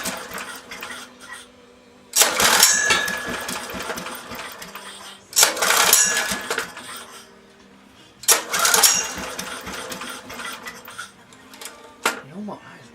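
A 1970s Honda E2500 generator engine is pulled over repeatedly: three loud surging bursts of small-engine sputter with gaps between, each dying back down, while someone talks nearby.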